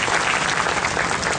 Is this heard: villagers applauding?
yes